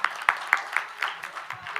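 An audience at a Mataji devotional gathering claps in a thin, uneven patter of scattered individual hand claps, moderately close, with voices murmuring underneath.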